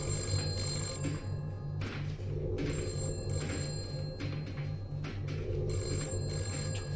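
An old telephone bell rings in steady repeated bursts of bright metallic trilling, fairly loud and continuous with no voices over it.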